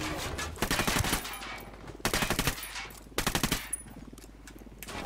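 Loud bursts of automatic gunfire in the tactical shooter game Ghost Recon Wildlands: three rapid rattling volleys about a second apart, over a steady game background hum.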